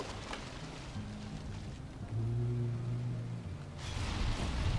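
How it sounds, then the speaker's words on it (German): Steady rain hisses over the landscape in the video game Valheim, a continuous soft patter under low droning game tones. "Stimmt, es regnet."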